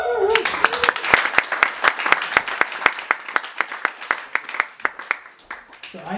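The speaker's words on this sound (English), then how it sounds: "get a big round of applause for every single shipper in this room." Hackathon audience applauding the presenting teams, a short opening burst of clapping that settles into sparse, rhythmic, evenly spaced claps, with brief talk at the start and end.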